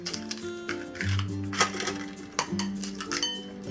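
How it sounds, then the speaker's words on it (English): Cracked eggs are whisked in a bowl, giving quick, irregular clinks and taps of the whisk against the bowl over a steady tonal hum, close and fairly quiet; no talk. "And give this a good whisk."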